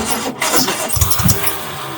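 An old car engine cranking and catching, a short loud churn then uneven low rumbling as it runs, close by with no talking.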